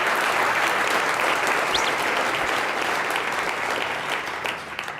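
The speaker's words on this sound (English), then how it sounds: "I think we should give them a round of applause for that" Audience applause breaks out for the guests on a livestreamed news commentary show, a dense, steady wash of clapping that holds for several seconds before thinning slightly toward the end.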